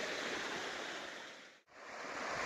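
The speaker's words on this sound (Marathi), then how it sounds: "जोरात खाली वरांगाळाचं पाणी येतं या पाटाने चाललंय खाली" Water rushes hard down an irrigation channel through village fields beside a stream, a steady loud broadband roar that dips briefly to near silence partway through, then returns just as strong.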